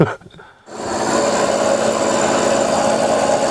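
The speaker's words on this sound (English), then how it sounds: "So I simply cut 2 pieces off about 18mm long with a grinder." An angle grinder cutting pieces of mild steel, spinning up after a brief quiet moment into a loud, continuous high grinding whine that holds steady to the end, close by with no talk.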